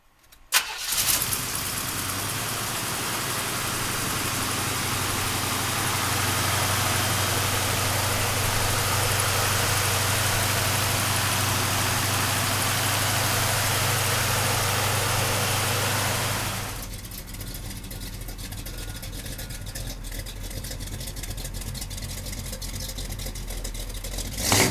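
A 1972 Chevrolet Monte Carlo engine cranks and catches, then runs loud and steady for a while before settling into a quieter, even idle.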